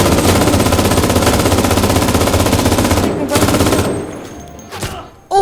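Rapid machine gun fire in the video game Cuisine Royale, a dense, loud unbroken rattle of shots lasting about three seconds before trailing off into a few scattered bursts and echoes.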